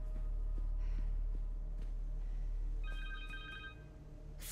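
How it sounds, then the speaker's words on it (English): A cell phone rings in Marvel's Spider-Man 2, a short electronic trill that starts partway through over a low, steady rumble of background game sound, with a brief breath or snort nearby. "Phone."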